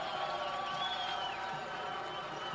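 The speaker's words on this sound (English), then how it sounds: "Listen to the round of applause he gets as he comes off the field" A football crowd at a 1993 college game between Evangel and Missouri Valley applauds a player leaving the field, a steady, distant wash of crowd noise with faint cheering throughout.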